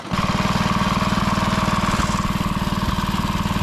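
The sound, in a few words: 1960s Rollo Croftmaster mini tractor engine running in top gear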